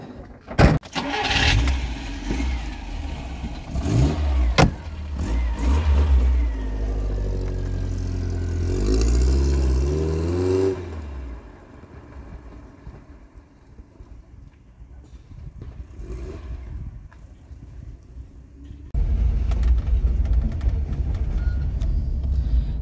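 A classic Fiat car starts up, revs loudly and pulls away, its engine fading into the distance before a rumble returns toward the end.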